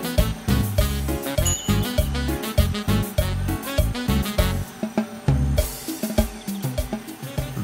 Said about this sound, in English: The bell you hear in the background is on Bella, to try to scare off any snakes around